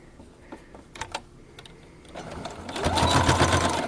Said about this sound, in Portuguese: Dei uma costurinha e um retrocesso apenas no início